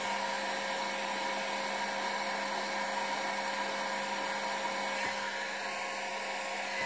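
A heat gun blows a steady, loud, whining hiss as it warms mould material for casting a skull onto a Halloween candlestick, continuous and unbroken throughout.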